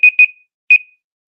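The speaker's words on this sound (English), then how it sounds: "That beeper is loud too, isn't it?" A loud electronic timer beeper marks the end of a writing sprint: two quick high-pitched beeps, a short pause, then a third beep, each ringing out briefly and heard alone.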